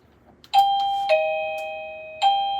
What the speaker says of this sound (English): So this doorbell button has that sound, and this doorbell button has the other sound.